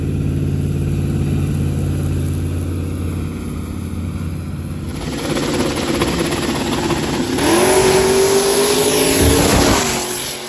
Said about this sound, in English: It sounds like the throttle's kind of stuck. That was weird. It had a high idle.